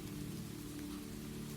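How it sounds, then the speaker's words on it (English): Steady rain patters on a roof on a summer evening, a dense, even hiss of close drops that runs without pause and with no voices. "Rain on a roof"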